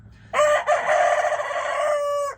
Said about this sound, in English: Give us a good crow.